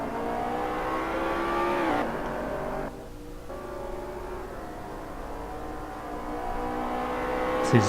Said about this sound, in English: This is Daltec Racing's Rion van der Westhuizen in the gorgeous looking McLaren GT3